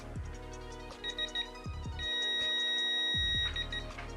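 A digital torque wrench set to 23 newton meters, used on a BMW E92/E93, gives a short electronic beep and then a longer, steady high-pitched tone lasting over a second, against quiet mechanical background.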